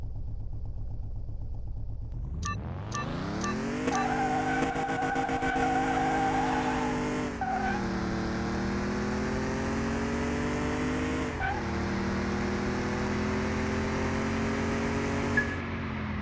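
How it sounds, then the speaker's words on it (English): Simulated car tires spinning hard at launch in Car Mechanic Simulator 2021, a loud engine revving up and holding high RPM with squealing wheelspin, sustained over about sixteen seconds with a few sharp gear-change dips. "It just spins the tires too much"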